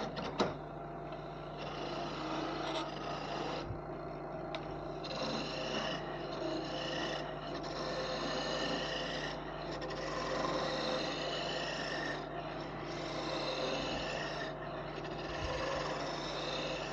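A skew chisel shaves a thin-stemmed wooden goblet spinning on a lathe, giving a steady, continuous rasping hiss with slight pulsing over a constant motor hum, close and moderately loud with no talk.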